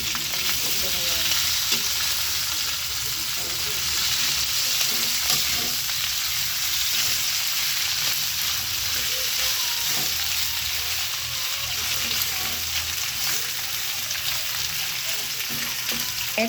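Beef stick frying in a pan, a constant close sizzle broken by repeated scraping and clacking as the pieces are stirred, with no clear talking.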